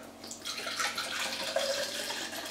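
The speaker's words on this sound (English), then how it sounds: "we're gonna fill it up with water." Water runs steadily into a cup, a continuous splashing hiss of filling liquid that holds at an even level throughout with no talk.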